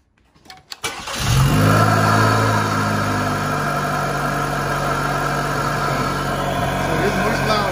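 A Chevy Cruze engine fitted with an AEM cold air intake cranks and catches, then settles into a loud, steady idle with a deep rumble and throaty intake roar, close by.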